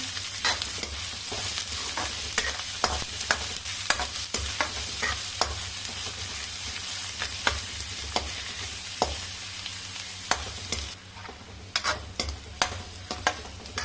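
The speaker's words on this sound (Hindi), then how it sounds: "यहीं पे हम प्याज को भी डाल देते हैं। इन सबको अच्छे से मिक्स कर लेते हैं।" Onions, chilli and garlic fry in a pan for chole samosa, a soft continuous sizzle punctuated by frequent sharp spoon clicks and scrapes as everything is stirred together.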